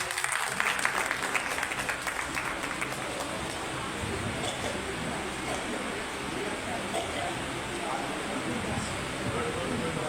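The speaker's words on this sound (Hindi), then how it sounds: "तालियां बजा दीजिए" An audience at a Partition Horrors Remembrance Day event gives sustained, steady applause for about ten seconds, a dense, even clatter of many hands filling the hall.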